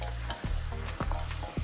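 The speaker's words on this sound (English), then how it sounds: "our oxtail and cow's foot has been cooking in this pot for a little now." Steady sizzling of oxtail and cow foot frying in a pot, with a few sharp scraping stirs breaking through the constant crackle.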